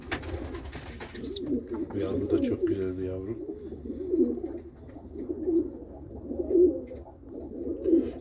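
Pigeons in a loft give repeated soft, low cooing calls in a slow rhythm, close by, with a voice talking over parts of it.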